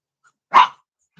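A single sharp dog bark rings out close by, a brief loud burst in an otherwise quiet moment.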